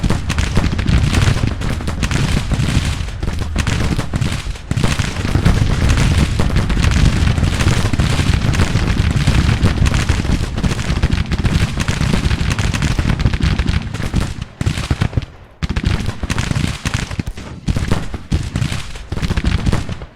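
Artillery and musket fire in Grand Tactician: The Civil War, during a battle at Lexington, Kentucky, April 1863. Loud, dense, continuous booms and crackling volleys overlap for the whole stretch, with only a brief thinning near the end.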